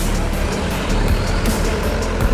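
A heavy bus rumbles past close by on a bridge in Solok, West Sumatra, a loud steady engine drone with low roaring traffic noise throughout.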